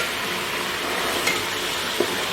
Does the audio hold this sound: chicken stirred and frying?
yes